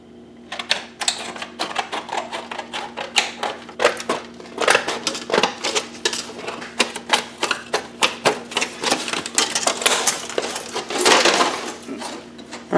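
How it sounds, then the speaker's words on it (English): Metal shears cutting a long strip from a chunk of aluminum, a steady series of close, sharp snipping clicks with a crunchy metallic edge, repeating irregularly. "So I need to do is cut a strip the whole length."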